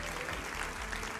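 Studio audience applause greeting a guest speaker on a televised political debate show, a soft, even patter of clapping heard at low level and fairly distant throughout.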